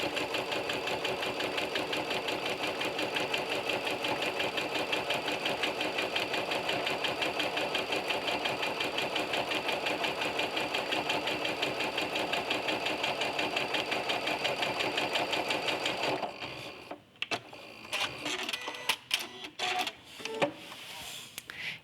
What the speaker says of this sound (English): I want to keep my line of stitching even with my mark.